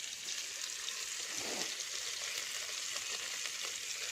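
Chicken fries in a pan with ginger garlic paste, giving a steady, dense sizzle throughout, with a brief stirring scrape partway through, close and continuous.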